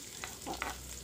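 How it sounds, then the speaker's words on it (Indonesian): Onions and large chili being stir-fried in a little oil, a steady close sizzle with scraping stirs of the spatula, no talking. "oseng-oseng bawangnya dulu ya teman-teman, ini sama cabai besarnya tadi"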